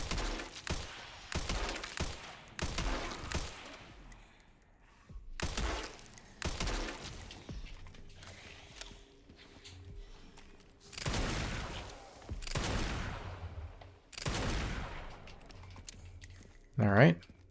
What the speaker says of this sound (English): there's gonna be a lot of gunfire here